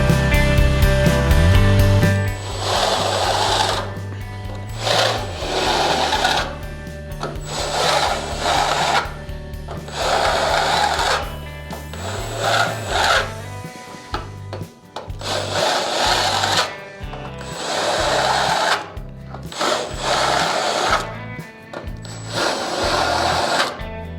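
A power tool chamfers bolt holes in a Chevy COE truck frame, whirring loudly in repeated bursts of a few seconds each, separated by short pauses, with no talking over it.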